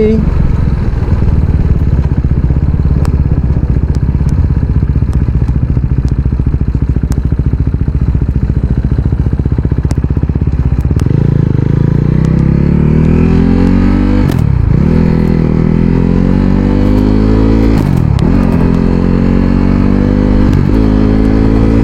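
A motorcycle rides along a road, its engine droning loud and close under buffeting wind, with the note climbing partway through and a few brief rev swells near the end.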